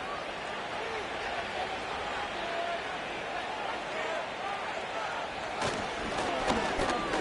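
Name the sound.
football stadium crowd noise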